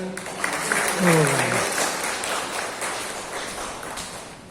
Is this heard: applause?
yes